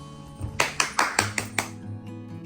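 About six sharp hand claps in a quick, even series from people at a Bengali New Year celebration among friends and family in Canada, rising over a steady low musical hum and fading into quieter room tone.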